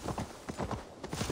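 Horse hooves clip-clopping in the Assassin's Creed Valhalla video game, a quick, even series of close, soft thuds at a trotting pace with no talking.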